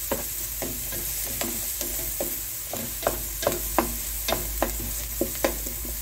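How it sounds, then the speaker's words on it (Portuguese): Garlic and onion sautéing in a pan are stirred with a spoon, giving a steady sizzle under a series of close, rhythmic scraping clicks against the pan. "De alho, vou mexer bem naquela refogada."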